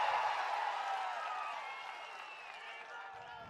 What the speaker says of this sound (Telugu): గట్టిగా చప్పట్లు కొట్టి హర్షాన్ని ఆమోదాన్ని తెలియజేయండి